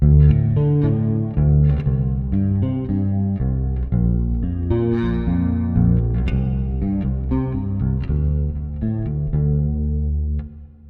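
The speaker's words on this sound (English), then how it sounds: "So we have the chorus and the natural reverb here with the amp" Bass guitar through a Kemper Profiler with chorus and the amp's natural reverb, playing a steady melodic line of plucked notes with a shimmering, wide modulated tone that fades out at the end, no voices.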